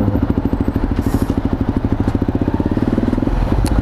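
A large-displacement motorcycle engine idles close by, a loud, steady, rapid thumping pulse with rough mechanical clatter and no voices.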